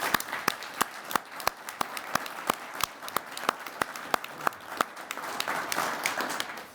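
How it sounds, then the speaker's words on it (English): Round of applause for state employees at a governor's press conference and bill signing, scattered individual claps ringing out distinctly over a softer crowd wash. "Let's give them a round of applause."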